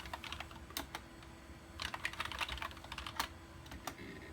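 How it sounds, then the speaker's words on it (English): Typing on a NeXT rubber dome computer keyboard, a quick run of soft, muffled key presses in uneven clusters, close and fairly quiet over a faint hum, with no talking. "It's a dome keyboard, rubber dome, but it is the best feeling rubber dome I've ever used."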